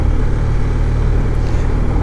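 A motorcycle riding in a group surges past other bikes, its engine a loud, sustained roar with a slight rise in pitch, heavy wind rush over it.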